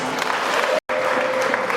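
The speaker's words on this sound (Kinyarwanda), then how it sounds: "Haleluya, twikomere amashyi." A burst of clapping from a church worship congregation, steady and fairly loud, broken by a very brief cut in the middle.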